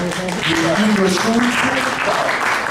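Audience at an Italian bookshop opening claps steadily throughout, a dense wash of hands under a voice speaking over it.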